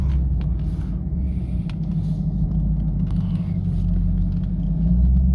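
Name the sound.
Chevrolet Camaro ZL1 driving on road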